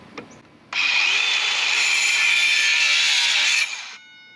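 A small DeWalt handsaw cuts through PVC pipe, giving a steady, loud continuous rasp of about three seconds that begins abruptly and then stops, close up with no talking.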